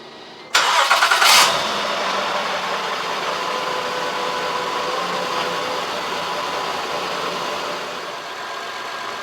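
A 2013 Honda Odyssey engine cranks and catches after a timing belt job, with a sharp loud start burst that settles into a steady, even idle running close by for several seconds.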